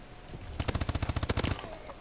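A rapid burst of automatic gunfire in the Call of Duty Advanced Warfare video game, roughly a dozen quick shots rattling out in under a second, moderately loud against quiet game ambience.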